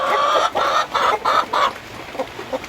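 Native hens cluck inside a backyard coop, about five loud, close calls in quick rhythm, then softer, fainter clucks trailing off.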